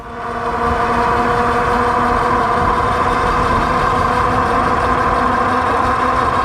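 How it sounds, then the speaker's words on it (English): Bee Explorer Lite electric bike motor under throttle, a loud, steady, close whine with layered tonal hum that rises quickly then holds level, mixed with road and wind rush. "The motor is a little bit noisy once it starts to accelerate, but it does level off."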